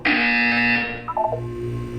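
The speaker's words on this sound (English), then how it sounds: "You will hear a buzzer. When you hear the buzzer, look down at the floor." A loud buzzer in the Portal 2 video game sounds as one steady, harsh electronic tone for about a second, followed by a few shorter, softer bleeps over a low hum, with no talking.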